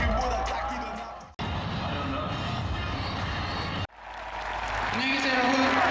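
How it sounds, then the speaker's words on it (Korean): Audience at a concert by a K-pop girl group clapping in a sustained, dense wash of applause with crowd noise, loud and continuous in three segments separated by brief cuts. "큰 박수 부탁드립니다."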